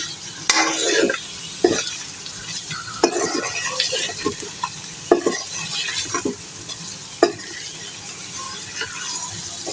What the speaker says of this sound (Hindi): थोड़ा सा फ्लेम थोड़ा तेज़ करते हैं, इसके साथ भूनते हैं।